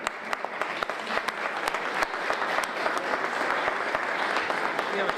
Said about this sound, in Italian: Angelo Grasso, il premiato. Applauso.